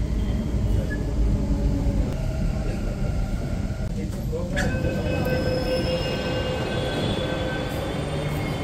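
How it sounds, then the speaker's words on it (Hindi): Bangalore metro train pulling into Mahalakshmi station, a steady loud rumble of wheels and carriages with a high brake squeal and tonal whine rising midway as it slows, with faint voices in the background. "Train will arrive in Mahalakshmi."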